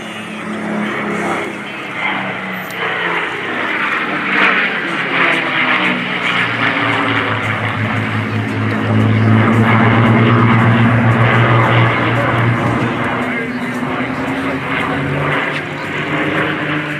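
Several P-51 Mustang warbirds fly a formation barrel roll at an air show, their piston engines droning loud and continuous, swelling and shifting in pitch as the planes roll overhead.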